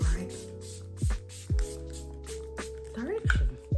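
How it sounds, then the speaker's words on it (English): A Milani Make It Last original setting spray bottle is pumped in a series of short, soft spritzes, roughly one every half second, close to the microphone. "Make It Last original spray from Milani. So spritzing, is it coming out?"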